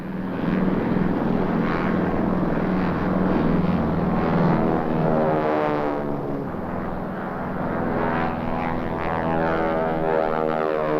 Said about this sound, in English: the old Lufthansa plane of the Junkers JU 52-3M type